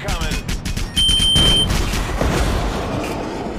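Sustained gunfire and booming impacts in the air-combat game Wings of War: Modern Warplanes, a dense, loud barrage of rapid shots with a brief high electronic tone partway through, over faint background voices.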